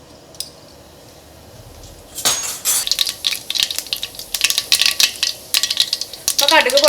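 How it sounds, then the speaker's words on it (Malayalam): Mustard seeds spluttering in hot oil: after a quiet start, a burst of sharp crackles and pops turns into irregular, close, fairly loud snaps that keep going to the end. "അപ്പോൾ കടുക് പൊട്ടിയിട്ടുണ്ട്."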